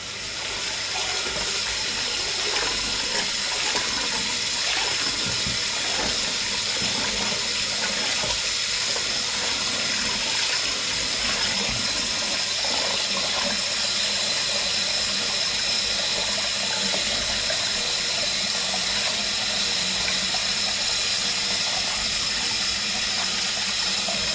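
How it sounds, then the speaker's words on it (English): Tap water runs steadily into a kitchen sink while something is rinsed, a continuous splashing hiss that stays even and close for the whole stretch with no voices. "So really, ideally, you want the water to run clean"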